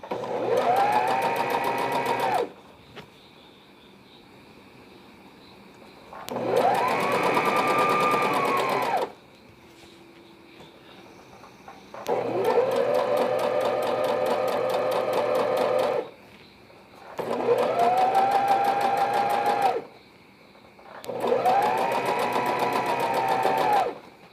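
A sewing machine stitches fabric for a newborn baby carry nest, running in five steady bursts of a few seconds each with quiet pauses between them, close and loud.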